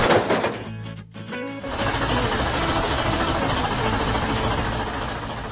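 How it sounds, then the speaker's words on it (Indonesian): A steady, loud engine drones continuously after a brief dip, with a low rumbling texture like heavy machinery running nearby. "Dengar suara mesin itu?"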